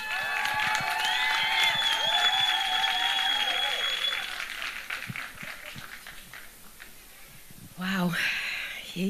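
Audience applause at a film premiere: a burst of clapping and cheering that fades after a few seconds, with a voice speaking over it and a short rise of voices near the end.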